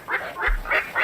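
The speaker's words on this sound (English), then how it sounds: "That's the sound of a heron." Heron calling in a short series of four hoarse, honking squawks in steady rhythm, loud and close, with no talk.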